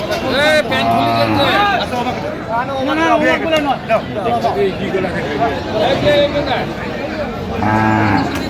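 Cows and calves lowing repeatedly at a busy livestock market, several loud moos close by and others further off, over a constant babble of people talking and haggling around them.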